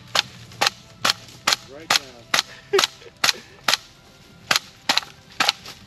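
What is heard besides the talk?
AK rifle being fired outdoors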